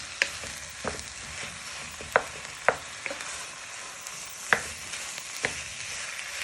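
Onions and spices sizzling in a pan for a chicken vindaloo, with sharp, irregular knocks and scrapes of a wooden spoon breaking them apart over the steady close frying hiss.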